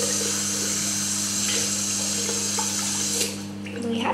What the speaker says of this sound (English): You're just going to put the warm water on and get rid of it.